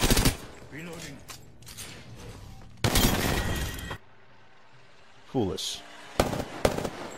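Sharp bursts of gunfire in the battle royale game Apex Legends, a few loud clusters of shots separated by pauses, with a brief spoken voice line in between.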